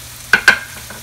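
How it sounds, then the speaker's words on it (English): Pieces of Spanish mackerel dropped into a hot frying pan, giving two quick, bright sizzling bursts close up, followed by a faint, steady crackle of oil. "fry them up"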